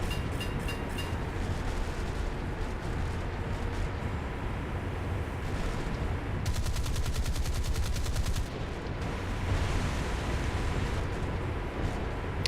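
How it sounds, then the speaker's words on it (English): A boat's AI gunners in the naval battles of War Thunder fire loud, sustained bursts of rapid automatic gunfire, a dense rattling barrage that carries on with a fast, stuttering pulse through the middle stretch. "My AI gunners just opened up, so there has to be someone."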